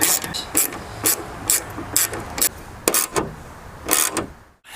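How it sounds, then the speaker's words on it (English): Screws are tightened by hand on a Corksport wing extension, a series of short ratcheting and scraping bursts in an uneven rhythm, close up and fairly loud, with no talking. "we can start getting these top screws bolted in"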